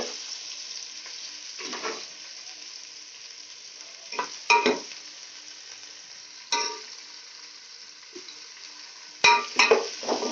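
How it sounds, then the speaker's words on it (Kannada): Onion and dried red chillies fry in hot oil for a tempering, a soft steady sizzle punctuated by several short bursts of stirring and scraping in the pan, close and alone. "ಅದಕ್ಕೆ ಒಣಮೆಣ್ಸಿಕಾಯಿ ಹಾಕಿದ್ದೀನಿ ಒಗ್ಗರಣೆಗೆ"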